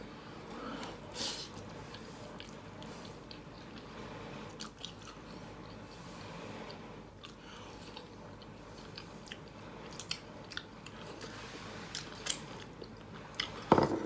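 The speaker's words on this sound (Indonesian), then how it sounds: "Nunui mau makan yang isinya daun singkong." Someone eats chai kue filled with cassava leaves in a spicy, sour broth at a Pontianak-style restaurant, with quiet, close chewing and soft wet mouth sounds over low room noise, plus a few sharper clicks toward the end.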